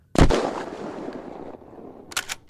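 A single loud rifle shot in Unturned II rings out near the start, its echo tailing off, followed later by a couple of quicker, lighter mechanical clicks.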